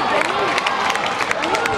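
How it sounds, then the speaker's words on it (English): Crowd of spectators cheering and shouting continuously at a school inter-house athletic meet during a 200 m boys' race, dense and loud with voices throughout. "Come on boys, let's cheer them on."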